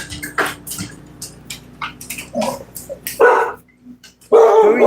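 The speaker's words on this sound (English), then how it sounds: "Who are you barking at?" Several dogs barking in short, sharp bursts, close by, with louder overlapping barks toward the end.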